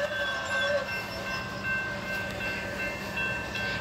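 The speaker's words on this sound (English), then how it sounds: "There goes the train crossing warning signals." Railroad crossing warning signals sound at a level crossing as a tanker and flatbed train approaches, with steady tonal ringing held over a continuous rumble of rail noise throughout.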